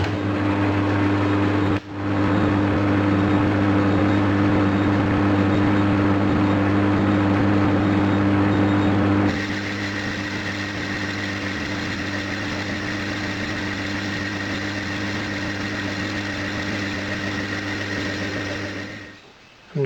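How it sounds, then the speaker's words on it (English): Lathe turning the rear face of a model DC generator housing with a boring bar, a steady loud motor hum with a constant tonal drone for nearly twenty seconds, shifting slightly in tone midway, then cutting off. "I'm going to machine the rear face now"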